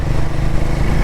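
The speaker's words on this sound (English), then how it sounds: "exhaust note is also pretty nice" A motorcycle engine of roughly 26 bhp with a raw, vibration-heavy character runs steadily close by, its exhaust note a continuous low rumble for about a second.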